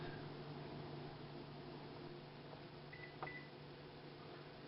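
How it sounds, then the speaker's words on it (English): A kitchen oven timer is set for a roast beef, giving a few short, quiet electronic beeps near the end over a constant humming appliance drone. "We're going to take our roast, stick it in that oven, and now we're going to turn the timer on for"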